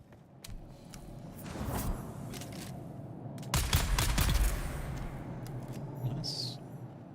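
Rifle gunfire in the game Dune: Awakening, with bursts of sharp shots spread through the clip, heaviest around the middle, over a continuous rumbling game background.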